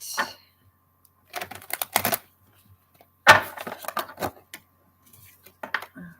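Large tarot cards are shuffled in short, crisp bursts of riffling and tapping, separated by brief silences, close up.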